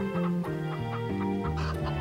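Several hens cluck and murmur close by in a steady, overlapping stream of short calls.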